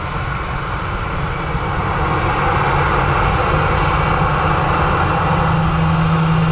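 Lufthansa airliner's jet engines just after touchdown at Manchester Airport, a steady broad roar that swells slightly and holds loud and near throughout, with a low droning hum beneath and no voices.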